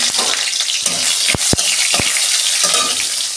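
Tomato tipped into a hot pan of sesame-paste ridge gourd sizzles loudly and steadily, broken by a few sharp clacks of a utensil against the pan, with no voices.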